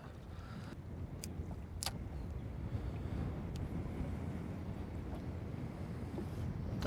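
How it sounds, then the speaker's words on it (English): Strong gusty wind buffets the microphone beside a rock wall on the Clarence River, a constant low rumble with a few brief clicks and no talk. "this wind is actually awful here at the moment"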